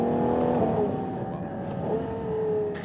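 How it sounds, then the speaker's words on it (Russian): Ferrari Purosangue V12 SUV revving under load, held in a low gear in manual mode, with a sustained engine note that rises and falls and shifts pitch, close and steady throughout. "Машина больше сама не переключает передачи, и я могу держать ее на пониженной столько,"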